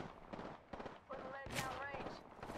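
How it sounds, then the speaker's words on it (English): Kraber sniper rifle fire in a fast online shooter match, sharp gunshot bursts cutting through a busy mix of game effects and a player talking over them. "Someone just shot at me with the Kraber."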